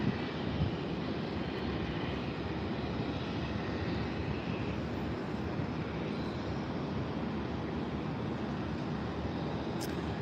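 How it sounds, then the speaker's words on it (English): An airliner taking off at Tampa International Airport, a broad steady roar of jet engines that stays loud and even, with no talking. "maybe we will get some more action after this American plane takes off"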